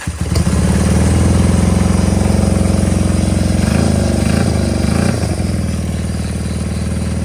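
A Honda CB200 motorcycle that has sat outside far too long runs close and loud on its tank, a steady rough idle with a brief throttle blip partway through before settling back down.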